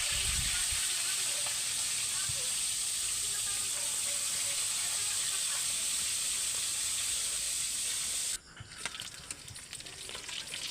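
Flying fish (bansi), freshly caught, frying in a pan with a loud, steady, close sizzle and hiss that drops and turns patchier near the end, with light stirring sounds.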